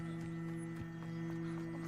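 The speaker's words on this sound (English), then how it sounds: "They're beautiful. These horses with wings." Winged horses in the video game Hogwarts Legacy give soft hoof clops and snorts, faint beneath a steady droning musical tone, with no speech.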